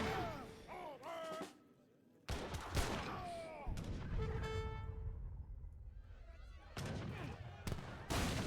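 Age of Empires III battle sounds: artillery booms and gunfire crack in repeated bursts, layered with horn-like tones, while a voice talks over the game.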